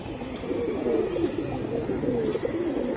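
Male pigeon cooing in a loft, a soft repeated low throaty coo rolling steadily across the moment, close and moderately loud over faint background hiss.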